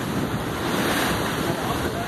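An ocean wave breaks and washes in loudly and steadily during dangerous surf fishing, with heavy wind rumbling on the microphone throughout.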